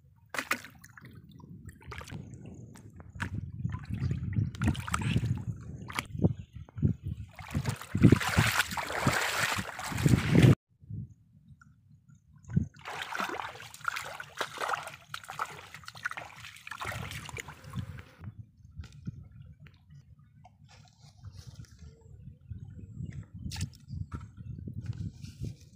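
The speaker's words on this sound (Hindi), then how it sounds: "अभी मैं थोड़ा पानी उठा लेता हूँ अपने बाल्टी में और इसमें हम अभी निरमा को" Water scooped from a river into a bucket and stirred with Nirma detergent, sloshing and splashing in repeated bursts, then trickling and swirling more softly, close outdoors.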